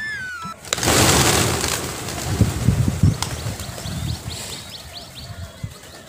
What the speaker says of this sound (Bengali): পায়রা এসছে তো প্রচুর